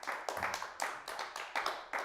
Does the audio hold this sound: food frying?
no